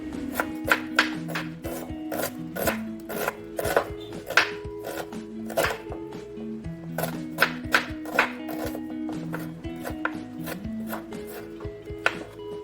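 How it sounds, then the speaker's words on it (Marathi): A knife finely chops an onion on a board, quick repeated taps in an uneven rhythm, close and clear with no talking. "मस्तपैकी आपला एक कांदा चिरून घ्या बारीक"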